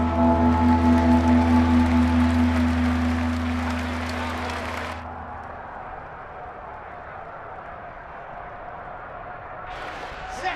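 A football stadium crowd in a video game roars loudly, first with a droning tonal blare layered in, then settling into a broad, sustained crowd wash under game commentary.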